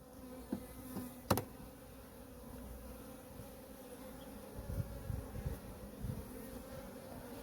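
Honey bees on a hive frame make a continuous low buzzing drone, steady and fairly faint, with occasional soft knocks and handling sounds and no talk.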